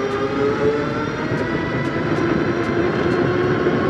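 A steady whine and road rumble from an Aniioki AQ177 Pro Max eBike moped at full throttle, running loud and continuous with faint periodic ticks, no talking.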